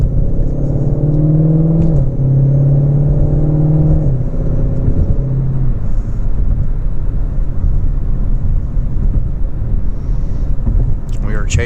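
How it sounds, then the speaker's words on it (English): A 2020 Ford Shelby GT500 drives on a highway at night, its engine a loud deep rumble with gear-shift drops in pitch, then a steady drone with road noise from inside the cabin. "We are chasing down a 2020 GT500 in a 2020 GT500."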